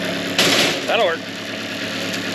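Vehicle engine idling to defrost the windows, a steady low rumble running throughout while a voice briefly speaks over it.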